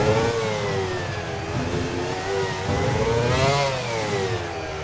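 A McLaren MP4/20 Formula One car's engine screams at high revs around Monaco in Assetto Corsa, the pitch climbing and dipping through gear changes in one continuous loud whine.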